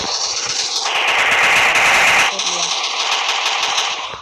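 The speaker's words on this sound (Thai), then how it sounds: "ต่อไปนี้จะเป็น ปืนกลปืนกล หันเหมือนเดิมเลย แต่ว่ามันเป็นรัวแค่นั้นแหละ" Rapid machine-gun fire in a video game, loud and continuous bursts that briefly intensify midway, with a voice talking over the gunfire.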